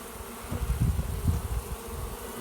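Honeybees buzz in a low, steady drone close by around a caged VSH queen in a hive, swelling briefly in the middle against a constant background hiss.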